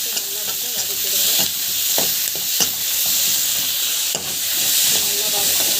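Onions and chillies sautéed with salt in a pan make a loud, continuous hissing sizzle up close, broken by repeated scraping stirs of a spatula, with no one speaking over it.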